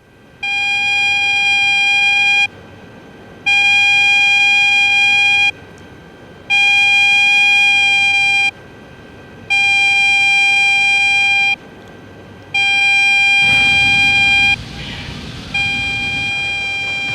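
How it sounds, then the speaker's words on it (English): A loud electronic ship general fire alarm sounds in long repeated blasts, about two seconds each with short gaps, steady and piercing throughout. "orders general fire alarm"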